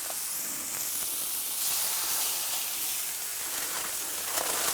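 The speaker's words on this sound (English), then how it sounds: "Cast iron's great because I'm putting a colder meat product in there." Ground turkey sizzling in avocado oil in a cast iron pan, a steady, soft hiss of frying that stays even and continuous throughout, fairly quiet and with no voices over it.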